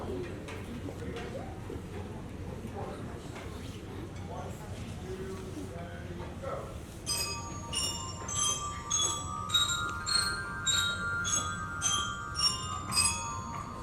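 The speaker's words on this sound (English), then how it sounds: "what we're going to demonstrate first is our bells, and they're going to play what we call our 6-note scale." A fifth grade school band plays a six-note scale on bells at a demonstration concert, clear metallic ringing tones starting midway and stepping through repeated struck notes over a murmur of room noise.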